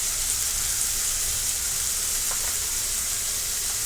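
Coriander leaves frying in hot oil give a steady, dense sizzle and hiss that stays even throughout, close up with no talking.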